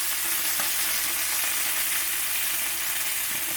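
Sausages brown in oil in a pan for a sausage and lentil stew, giving a steady sizzle and crackle at close range. Faint stirring clicks sound now and then.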